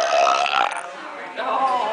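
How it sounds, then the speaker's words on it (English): A long, loud burp rolls on for nearly two seconds, strong and close, with a brief dip in the middle before it swells again. "Any more long burps?"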